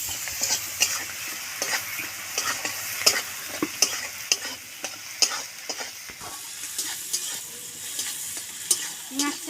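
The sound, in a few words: onions frying in a pan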